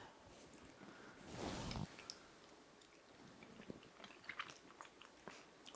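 Soft, creamy washed-rind cheese being eaten close up, a short burst of moist biting followed by quiet, faint chewing and mouth sounds, no talk.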